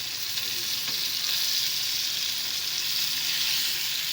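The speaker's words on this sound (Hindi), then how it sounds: "ढक्कन लगा कर रख देंगे ताकि हमारा ये भुन जाए, अच्छा सा हरी मिर्चों का फ्लेवर आ जाएगा" Charsi karahi roasts with green chillies in a covered pan, giving a continuous close sizzle and crackle of frying that holds steady throughout, with no talk.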